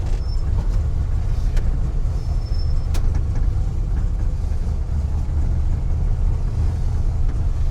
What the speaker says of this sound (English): Sounds good, motor's running good.